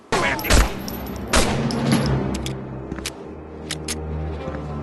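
Rapid bursts of gunfire from a Medal of Honor Frontline video game firefight, with sharp loud shots clustered early and scattered lighter reports trailing off across the scene.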